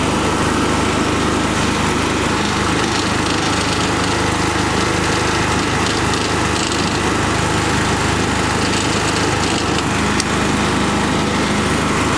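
A gas-powered generator runs steadily and loudly throughout, a constant dense engine drone with no pauses and no talk over it.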